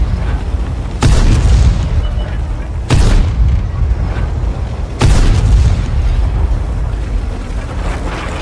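Tank cannon explosions from the World of Tanks video game, played on a laptop at highest quality settings, come as three loud booms spaced a couple of seconds apart over a constant engine-like rumble.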